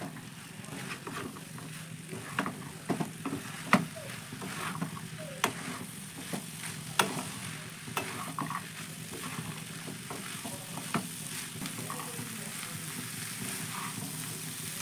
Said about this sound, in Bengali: তারপরে আমি ভালো করে মিশিয়ে একটু মটর আর আলুটাকে একটু কষিয়ে নেব।